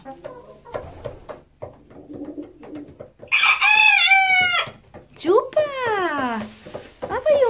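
A rooster crows loudly and close by, twice in full long calls, while a person nearby talks to the bird between and around the crows.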